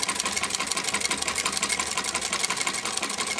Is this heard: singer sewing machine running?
yes